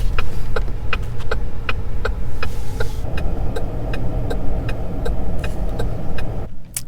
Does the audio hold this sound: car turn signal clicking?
yes